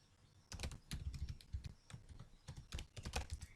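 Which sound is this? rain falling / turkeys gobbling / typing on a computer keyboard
typing on a computer keyboard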